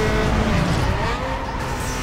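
Cars racing in Need for Speed Underground 2, a continuous loud engine roar layered with tire squeal and skidding, steady and close throughout.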